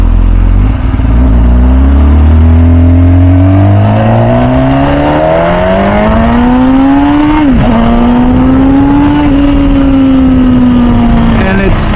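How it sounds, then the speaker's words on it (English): An MV Agusta F4 Tamburini motorcycle engine screams at high RPM, loud and close, rising through the revs with a brief shift or throttle dip before climbing again, and faint talk underneath. "just the sound that this bike makes is absolutely amazing"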